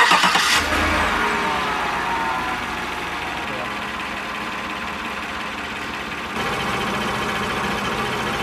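Truck engine, a 6L80E-equipped Silverado, Sierra, Tahoe or Suburban, running steadily at idle during a transmission flush, a close, constant mechanical hum with a brief louder burst at the start and a slight shift later on.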